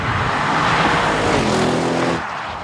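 A 2014 Audi RS7 engine pulls hard through corners on German roads, a loud, steady roar with a rising engine note building near the end before the sound suddenly drops away.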